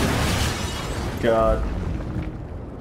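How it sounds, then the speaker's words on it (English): An explosion in the horror game Until Dawn during its finale, a deep rumbling blast with crackling debris that fades out, heard under a short exclamation from a player. "I want to see the explosion"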